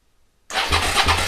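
A Suzuki SV motorcycle engine, throttle held wide open with a compression gauge fitted, bursts into loud, close cranking after a brief silence, churning with a rough pulsing rhythm.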